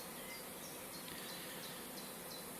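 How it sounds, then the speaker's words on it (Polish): Honeybees crawling into their hive at an apiary make a soft, steady buzzing drone with faint overlapping wingbeat tones, quiet and continuous throughout. "pszczółki sobie spokojnie wchodzą. Spokojnie sobie wchodzą do ula, zobaczcie."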